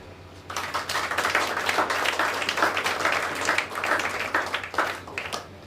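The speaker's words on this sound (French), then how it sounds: "C3 Édition, dirigée par M. Fred Boutis, que je vous demande d'applaudir." An audience at a library inauguration ceremony applauds, a steady wash of many hands clapping that swells and holds for several seconds before tapering off, with no talking.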